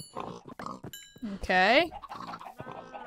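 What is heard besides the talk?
pigs oinking in Minecraft video game while breeding with carrots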